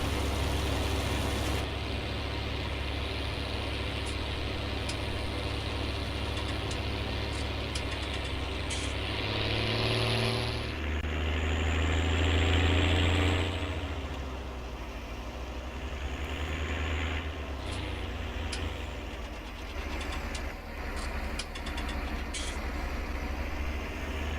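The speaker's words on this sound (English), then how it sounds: "It does sound glorious, this tractor. A little bit on the loud side" Tractor engine in the farming game Farming Simulator 19, a loud, steady diesel rumble that swells and eases as it works, with occasional hissing and higher mechanical tones layered over it.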